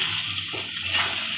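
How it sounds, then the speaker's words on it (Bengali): Water pours steadily into a pan of hilsa fish curry with potato and eggplant, a continuous close splashing rush lasting a moment. "এবার জল ঢেলে দিলাম।"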